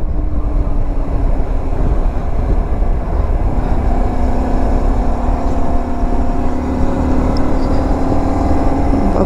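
A Honda Varadero 125 motorcycle ridden on a road toward Lac Blanc in Alsace, its steady engine drone mixed with loud continuous wind rush, heard close for the whole stretch.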